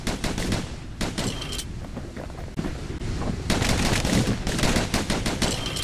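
Dual slinger pistols fired in Bastion, rapid bursts of sharp gunshots in quick succession, loud and close, with brief pauses between volleys.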